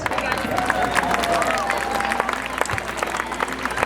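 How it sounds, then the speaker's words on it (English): Scattered clapping and crowd noise at an outdoor police dog demonstration, mixed with voices and chatter, with the clapping fairly thin rather than a full ovation. "And let's give Reg a round of applause."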